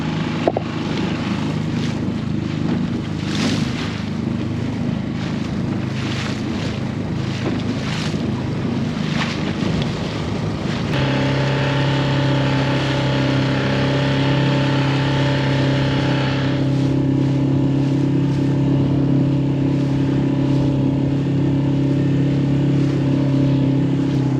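A small dinghy motors across rough open seas near a Tikehau atoll, its outboard engine droning steadily and close under loud wind buffeting and the rush of water and waves against the hull.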